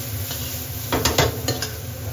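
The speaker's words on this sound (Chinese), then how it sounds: "炒鱿鱼" Squid stir-frying in a wok, with a steady hiss of frying under a few scraping, clattering strokes of the utensil against the pan near the middle.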